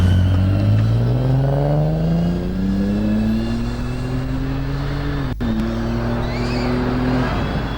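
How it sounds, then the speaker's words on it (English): Ford FG Falcon Legends race car accelerating hard off the line at a lakeside hillclimb, its engine note climbing steadily through a long rev, briefly dipping at a gear change, then pulling on loud and close throughout. "Dylan driving the promo FG Falcon this weekend"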